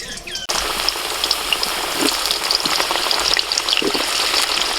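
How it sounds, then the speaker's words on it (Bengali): Large chunks of potato for biryani drop into hot oil left from frying onions, and a dense, close, steady sizzle follows a quiet moment at the start. "ওই পেঁয়াজ ভাজার তেলের মধ্যে আলুগুলোকেও ভেজে নেব।"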